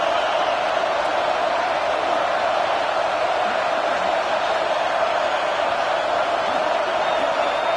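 A football stadium crowd roars on third down, a dense, steady wall of loud noise that holds unbroken throughout without pauses or peaks.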